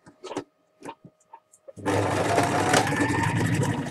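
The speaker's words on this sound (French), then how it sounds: "on va la coudre avec la manche ouverte. Donc, comme tout à l'heure, je couds à 1 cm du bord." Someone speaks briefly before a sewing machine starts up on an open garment sleeve, running in a steady close whirring hum.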